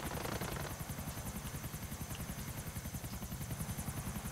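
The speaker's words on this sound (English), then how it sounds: "you gotta fly in with your helicopter." A helicopter in Grand Theft Auto 4 gives a loud, steady rotor thump with rapid, even blade pulses over a constant engine whine, heard close with no talk.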